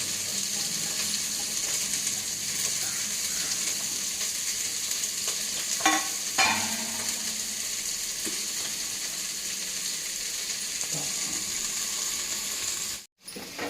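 Onions fry in a pan for vegetable pulao, making a continuous even sizzle with a couple of brief stirring scrapes midway and a sudden short dropout near the end.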